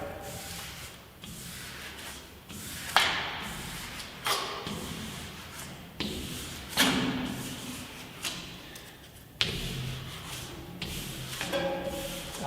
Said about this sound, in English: I'm pushing, you can hear that, pushing the air bubbles out to the outside.